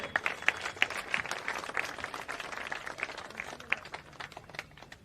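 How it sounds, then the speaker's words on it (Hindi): A crowd at a Jan Suraaj padyatra gathering claps to honour a guest, uneven rapid clapping of many hands with a few sharper claps standing out. "इसलिए इनके ताली बजाइए।"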